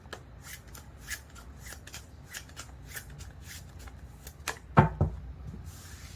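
Tarot cards are shuffled and handled during a reading, with soft papery flicks and slides in a quiet room, then a couple of sharper snaps as a single card is drawn from the deck.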